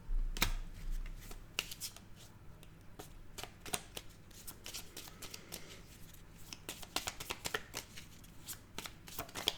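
Up close, a deck of tarot cards is shuffled and cut, giving quiet, rapid riffles and soft slaps and taps in irregular bursts.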